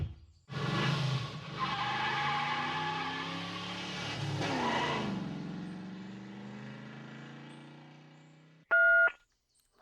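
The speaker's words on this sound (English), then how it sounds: "That sounds like someone stopped at the side of the road." A car pulls over and stops at a roadside: a steady engine and tire rush that slows and fades over several seconds, ending in a sharp electronic click-beep, used as a podcast sound effect.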